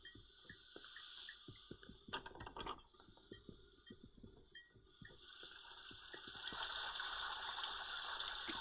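Running water in the game Cry of Fear, a steady hissing gush with faint clicks and footsteps beneath, a burst of noise partway through, then the flow swells louder and closer near the end.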